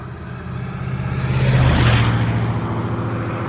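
A car passes along a road, its engine noise swelling to a peak midway and then easing off while staying steadily audible, with no talking.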